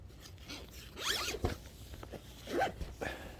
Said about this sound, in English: You jump in the tent and zip it up.